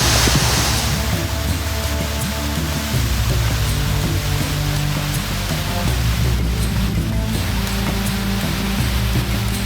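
Constant rushing, roaring water from a small waterfall in Lubango, Angola, fills the whole clip, a dense steady wash of cascading flow heard from nearby with no pauses.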